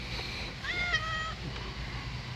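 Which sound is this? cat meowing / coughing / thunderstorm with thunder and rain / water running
cat meowing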